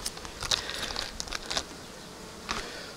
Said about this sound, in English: you can see the bees seem to have calmed down a little bit